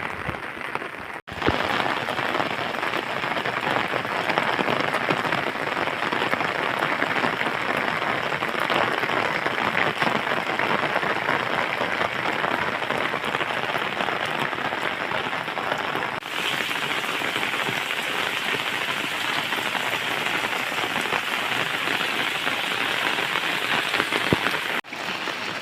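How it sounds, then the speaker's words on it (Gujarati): Steady rain falling at the Methala dam, a dense continuous hiss of drops lasting throughout with no talking, fairly loud and even, with a brief dip near the start. "કારણ કે વરસાદ શરૂ છે"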